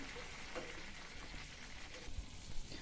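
Crab pepper fry sizzles gently in oil over a low flame, a quiet, even crackle with occasional small pops, close and steady with no talking.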